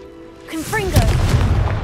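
Confringo blasting spell bursting in Hogwarts Legacy, a short voiced cry followed at once by a heavy booming blast that rumbles on for about a second, close and loud.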